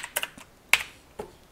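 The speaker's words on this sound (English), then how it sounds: "You could probably hear my keyboard clacking away in the background here." A computer keyboard clacks while someone types, with a few sharp, separated keystrokes landing irregularly and close by, one louder than the rest, with no voices.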